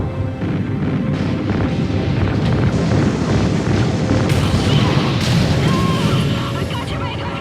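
Sustained heavy gunfire and explosions in Call of Duty Ghosts, a dense, loud barrage of shots and booming blasts running throughout with no pauses.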